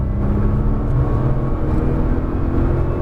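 A Nissan GT-R accelerating on a race track produces a continuous, heavy, low engine drone, steady and loud from inside the car, with no talk.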